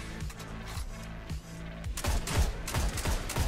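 Shooter video game gunfire crackling in dense bursts and rapid volleys, loud and close, with repeated shots building into a sustained fusillade toward the end.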